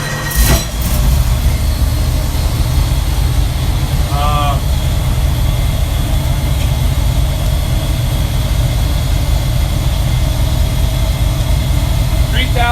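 A boosted 401 cubic inch Ford engine on a dyno warms up with a loud, steady low rumble that runs without a break, while a voice speaks briefly over it.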